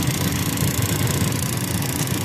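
A furnace fires up after the thermostat is switched on, its pilot and ignition giving a steady, close, loud rumbling roar that holds evenly throughout.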